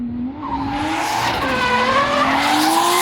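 Car sliding sideways into a drift after a clutch kick, rear tires squealing in a loud, sustained rising and falling screech layered over steady engine drone, close and continuous.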